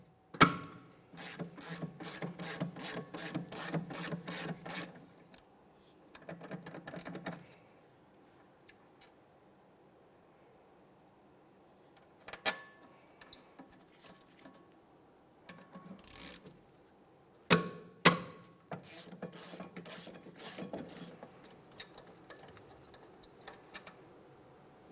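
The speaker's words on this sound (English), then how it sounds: "Go ahead and remove the pair." Rapid ratcheting clicks as a wrench loosens and removes a pair of 14mm caliper bracket bolts from the rear brakes of a 2002-2006 Honda CR-V, coming in several separate bursts with short pauses and a couple of sharp metallic knocks between them.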